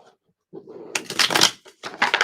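Tarot cards are shuffled by hand, giving a close, dense rattling riffle that builds after a soft start, pauses briefly, then resumes.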